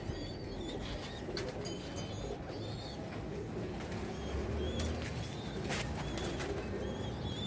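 Pigeons coo on a rooftop in soft, repeated rolling calls over a steady outdoor hum, with a few sharp chirps and brief wing flaps mixed in; no one speaks.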